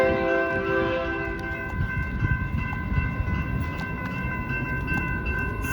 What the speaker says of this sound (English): See, there's different locomotives.